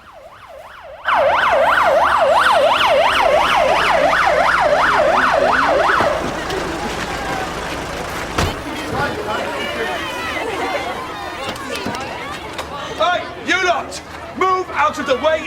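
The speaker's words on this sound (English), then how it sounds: "Out of the way of the ambulance!" An ambulance siren wails loud and close with a fast rising-and-falling rhythm for several seconds, then cuts off, leaving a busy school corridor of chatter and shouting voices.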